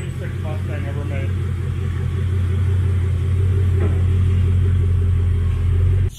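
A Buick drag race car rumbles loudly at the track. The deep low engine drone holds steady and close for about six seconds and cuts off at the end, with faint voices underneath.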